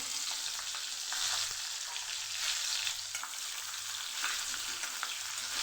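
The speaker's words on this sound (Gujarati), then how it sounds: "અહીંયા આપણું તેલ સરસ ગરમ થઈ ગયું છે તો આપણે મરચાંને અહીંયા ઉમેરી દઈશું" Stuffed fasting chillies frying in hot oil in a kadai, a dense continuous hiss of bubbling oil, steady and close, fairly quiet, with no speech over it.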